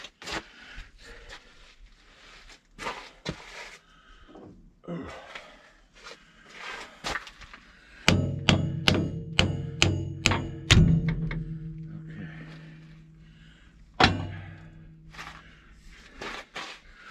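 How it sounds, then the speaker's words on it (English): Several sharp, ringing hammer blows strike the blade of a Caterpillar No 12 8T grader during a pitch adjustment. A quick series of close, loud metallic clanks is followed by a lingering ring, then one more strike later on. "Oh, I went for the hammer."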